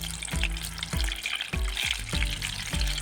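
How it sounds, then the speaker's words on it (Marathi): Mushroom bhaji fritters drop into hot oil in a wok, a continuous loud sizzle and crackle of deep frying with regular thuds as each batter piece goes in, no talking. "आता कढईमध्ये तेल तापलेलं आहे, आपण ही भजी"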